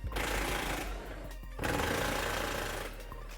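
A 3/4-inch socket on an impact tool zips off Jeep Wrangler JK front bumper bolts, a loud rapid buzzing rattle in two close bursts separated by a short pause.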